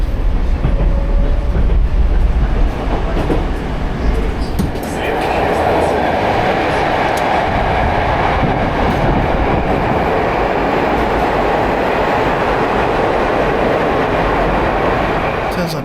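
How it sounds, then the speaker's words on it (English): A metro train in Russia roars along close by, with a steady heavy rumble and rattling clatter of wheels throughout. "it's not all these fancy trains that you see right now"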